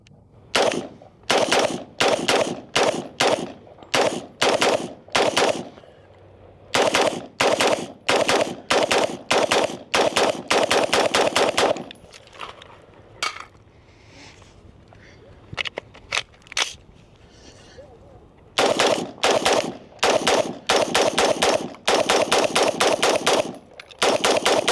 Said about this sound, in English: First 30 rounds, no lube for the SIG M400-TREAD-V2.